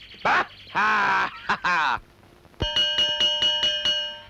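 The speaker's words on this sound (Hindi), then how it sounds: "घंटी बज गई है, फौरन क्लास में जाओ।" A school bell rings loudly in a rapid, steady series of strikes after a couple of seconds of brief vocal sounds, in a Bollywood film scene.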